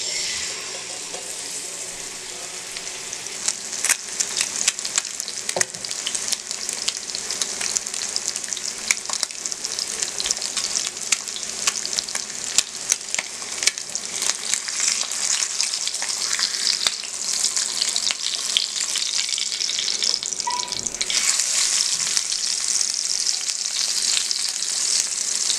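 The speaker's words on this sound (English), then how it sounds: "basically let the salmon sear on one side for about 2 minutes because it's very thin." Thin salmon fillet searing in a hot pan, a steady close sizzle with rapid crackling pops that grows a little busier partway through and carries on without speech.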